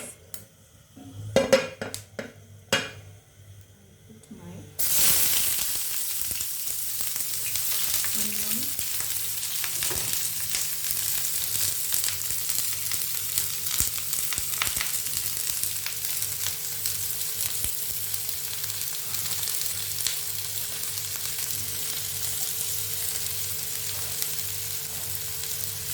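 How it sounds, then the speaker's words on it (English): Onion and tomato dropped into hot oil in a pan for an omelette, a sudden loud sizzle that settles into steady continuous frying with occasional utensil clinks, after some faint pan handling, with no talk. "And fry your onion until it turns golden brown."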